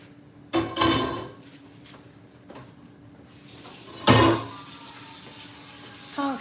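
Black beans are washed under a running kitchen tap, with bursts of water splashing into a sink, a few clanks of a pot and scattered clatter, close and moderately loud.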